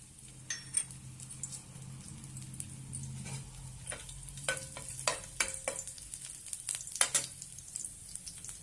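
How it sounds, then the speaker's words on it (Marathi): Garlic cloves frying in hot oil in a pan for brinjal chutney, a steady soft sizzle with irregular clicks and taps of stirring on top, close and fairly quiet, with no talking. "पॅन गरम करायला ठेवलेला आहे, त्यामध्ये तेल घेऊया। त्यामध्ये लसूण घालूया।"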